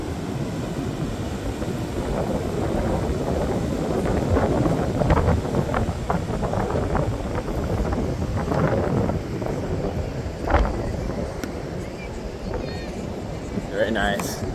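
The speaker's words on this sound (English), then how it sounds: "A little bit windy." Steady wind buffeting the microphone at Rosarito Beach, Mexico, on a sunny day, a constant broad rumble and rush throughout with a faint surf-like wash underneath.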